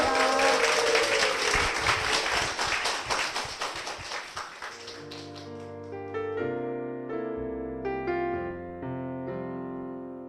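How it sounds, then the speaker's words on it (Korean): Applause from a church audience fills the first half in dense, fairly distant clapping that fades out as piano-like music begins. "두 분께 다시 한번 힘찬 축복의 박수 부탁드리겠습니다"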